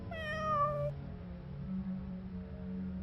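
Cat meowing in the video game Concluse 2, a single clear, drawn-out meow up close, then quiet background hum.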